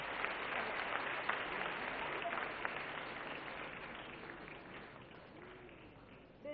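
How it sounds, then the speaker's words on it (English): Lecture audience applauding steadily at Presidency University in Kolkata, a broad dense wash of clapping that thins and fades slightly toward the end. "A round of applause."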